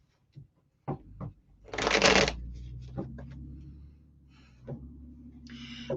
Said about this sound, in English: Just let me shuffle this again.